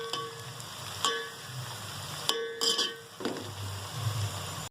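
Onions frying in a pan with cumin, peppercorns and cloves for chicken keema, a steady low sizzle with a few sharp clinks and stirring scrapes, no talking.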